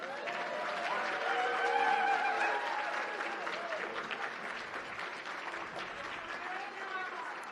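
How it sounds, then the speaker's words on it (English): Audience applause at a community Passover Seder, a sustained burst of many hands clapping that swells early and slowly tapers, with voices mixed in. "Clap now."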